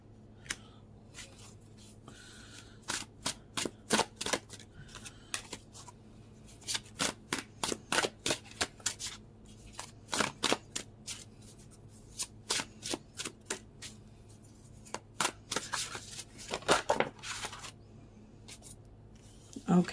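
Tarot cards riffled and shuffled in quick crisp bursts, close and fairly quiet, repeating in irregular clusters with brief pauses between them.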